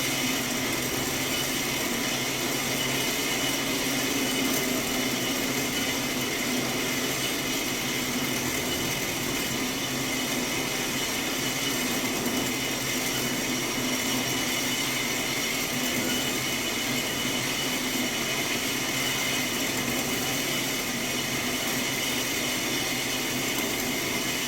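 A blade cutting through steel on a welding table, with a loud, unbroken whirring roar holding steady for the whole stretch and no talk.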